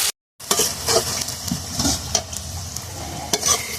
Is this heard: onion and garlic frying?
yes